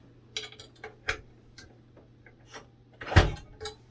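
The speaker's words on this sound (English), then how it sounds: "And now the door is locked." A key turns in the lock of a church door, making faint metallic clicks and ticks with a louder clunk near the end as the bolt seats.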